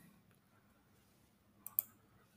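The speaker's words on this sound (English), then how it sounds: "Click on Java application." Two quick, faint computer mouse clicks land near the end of an otherwise quiet stretch with a low background hum.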